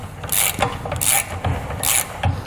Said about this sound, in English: we go ahead and tighten these two bolts up here using a 14mm wrench